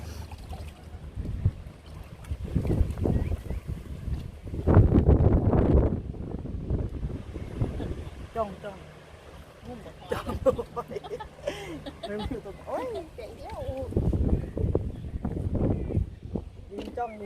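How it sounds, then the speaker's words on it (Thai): Wind gusts across the seashore, rising and falling in loud rumbling blasts against the microphone, with people talking in between and water sloshing faintly nearby. "ลมมาเป็นช่วงๆนะจ๊ะ"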